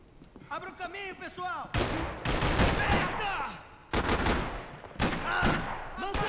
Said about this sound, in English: I shot his head off